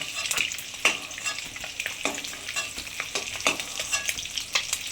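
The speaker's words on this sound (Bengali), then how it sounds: "জিরে দিলাম ফোড়নে, তেজপাতা দিলাম," Cumin seeds and a bay leaf sizzle in hot oil, a close crackling fry broken by frequent sharp pops and the clicks of stirring, with no voices.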